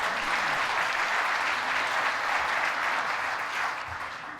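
Audience applause at a men's chorus Christmas concert, a full sustained roar of clapping from a seated crowd that holds steady and begins to taper off near the end.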